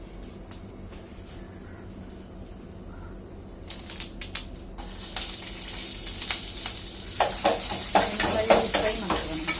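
Coriander and cumin frying in a pan for sambar, a soft crackle that swells into louder, busier sizzling and spatter with clinks of stirring, close and steady throughout.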